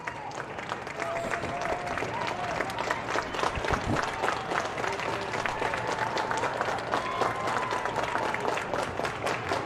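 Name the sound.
rhythmic clapping from baseball fans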